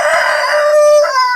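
A rooster on a city terrace farm gives one loud, close crow, a drawn-out ringing call that rises and then breaks off near the end.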